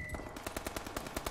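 A sharp headshot crack in Call of Duty Advanced Warfare rings out amid a fast, steady stream of clipped gunshots that repeat rhythmically at moderate loudness.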